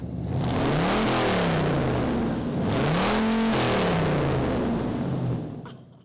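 A 1984 Toyota Corona Vanti engine revs hard twice, pitch sweeping up and falling back each time, loud and close with no voices over it.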